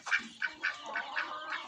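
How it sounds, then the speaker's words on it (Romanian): Romanian ducks quack in a quick rhythmic series of about six calls, close by and fairly faint. "Rațele românești"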